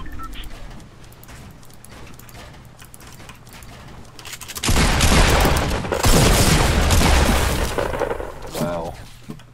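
Gunfire in the video game Fortnite during a fight against bots, erupting midway as a loud, dense burst of shots and impacts that drowns out the quieter game ambience, with voices talking over it.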